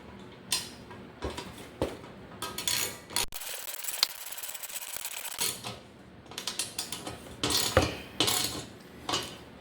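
A ratchet tightens a 13mm bolt on a John Deere Z355e mower deck in quick bursts of clicking strokes, close and clear, with a brief pause between rounds of ratcheting.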